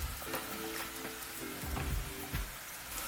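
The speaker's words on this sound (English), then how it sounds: "And then I'm gonna add my apples to the pan." Apples sizzling as they cook in a pan, a soft continuous crackling hiss with a faint hum and a few low bumps, close but fairly quiet.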